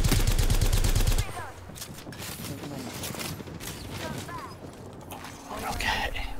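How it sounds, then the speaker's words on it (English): An airstrike in a first-person shooter game: a burst of rapid loud blasts and gunfire, then a lower rumble of distant explosions and mechanical clatter, with a voice talking over it. "Airstrike."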